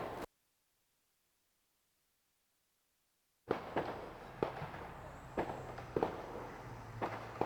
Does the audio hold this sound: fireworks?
yes